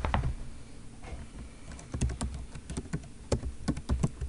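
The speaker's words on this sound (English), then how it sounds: "that's what we're typing" Close, clear typing on a computer keyboard, with irregular bursts of quick key clicks and taps separated by short pauses, heard without any talk.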